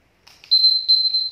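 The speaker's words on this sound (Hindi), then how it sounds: "टाइमर खत्म।" A kitchen-style countdown timer finishes with a steady, loud high-pitched electronic beep that holds for about a second after a short softer chirp, close by with no talk over it.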